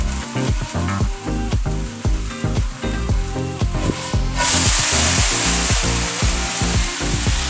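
Shredded potato hash browns fry in a hot pan, giving a loud, steady sizzle with rhythmic scraping or tapping on top that grows hissier and brighter partway through.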